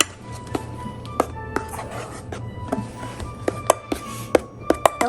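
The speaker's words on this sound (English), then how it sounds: "Stir it really good" Glittery fluffy slime being stirred in a bowl, giving sharp clinks and taps of a utensil against the bowl at an irregular pace over a steady low hum, close and fairly loud.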